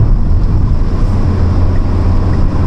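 Tata Altroz DCA engine pulling hard from 100 km/h, a loud, steady low-pitched drone mixed with wind and road rush, no talking over it.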